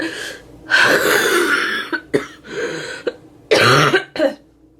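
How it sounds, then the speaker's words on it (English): A sick person with COVID-19 pneumonia coughs hard and close in several harsh bursts separated by short pauses and breaths. "Still coughing."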